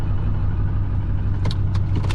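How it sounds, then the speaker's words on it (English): A 7.3L Powerstroke diesel truck drives along the road, its engine giving a steady low drone with a few brief higher squeaks near the end. "I'm gonna take everyone around the block so you guys can kind of see how the truck shifts with Brian's tunes"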